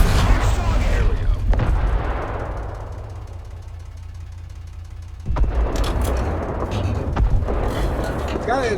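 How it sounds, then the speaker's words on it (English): Heavy explosions boom and rumble in a Gaijin combat video game, a loud blast fading into a long decaying roar, then a second sudden boom followed by crackling bursts. "Gaijin has done a wonderful job on the explosions."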